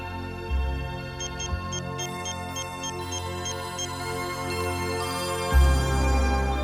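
A phone ringtone chirps in repeated short electronic pulses in a Hindi film scene, moderately loud over a sustained musical drone with a deep thump near the end.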